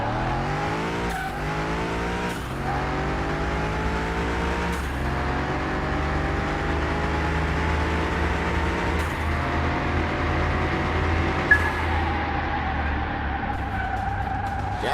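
A Hellcat-engined old-school Dodge Charger racing in Car Mechanic Simulator 21, its engine revving hard through repeated upshifts, each climbing whine cut by a gear change, loud and continuous.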